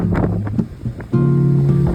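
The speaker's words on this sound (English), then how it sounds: "And it is super windy." Strong wind in Iceland buffets the microphone in loud low rumbling gusts, with a steady engine-like hum joining partway through.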